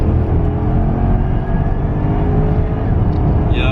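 A 700 whp Porsche Panamera Turbo in Sport Plus holds third gear under light throttle. Its engine gives a loud, steady drone heard from inside the cabin, with faint rising tones and a brief higher whine near the end.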